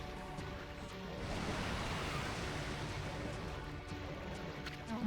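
Broad ocean waves swell and rush steadily in the video game Okami HD, a continuous wash of surf that rises slightly and holds, with no voice over it.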